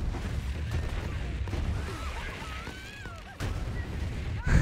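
Grenade blasts from a modded grenade in Borderlands 3 go off in a dense, continuous barrage of booms and crackling bursts, with a brief lull before a final heavy thump.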